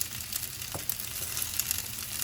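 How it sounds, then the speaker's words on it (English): Briefly boiled Ukrainian sausage fries in butter in a pan, giving a steady, close crackling sizzle with a few small pops and no voices. "now I'm frying them in butter just to get a little bit of a brown on them"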